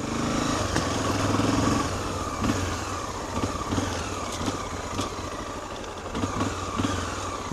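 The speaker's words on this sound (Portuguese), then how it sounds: "A moto dele tá morrendo." A motorcycle engine sputters and labors while riding on a rural dirt trail among cattle, loud at first and then dropping to an uneven, faltering putter with brush scraping and bumps.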